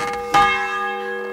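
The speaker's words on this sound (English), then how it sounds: "Can we ring the bell?" A church bell rung in the medieval game Kingdom Come: Deliverance gives a single loud, resonant strike that hums on, fading slowly with no voices over it.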